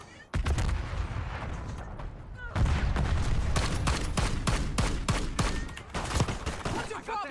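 Gunfire from an enemy sniper rifle in a first-person shooter video game: a string of sharp shots spread across the clip, over dense battle noise and bursts of other weapons.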